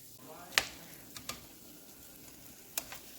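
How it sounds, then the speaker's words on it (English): Siakoy dough frying in hot oil, a quiet steady sizzle broken by a few sharp pops and crackles, with a faint voice in the background. "Okay, I fry it."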